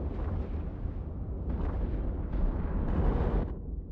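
Heavy booming explosions from bombs going off in an EVE Online space battle, a dense continuous low roar with surging bursts, loud and sustained throughout.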